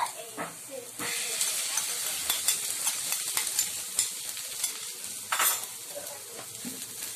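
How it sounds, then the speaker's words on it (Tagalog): Two eggs are stirred into softened vegetables in a hot pan, with steady sizzling and frying hiss under repeated scraping strokes of a utensil. Brief speech is heard now and then. "Ngayon pong malambot na po ang ating vegetables, ihalo na po natin ang ating egg."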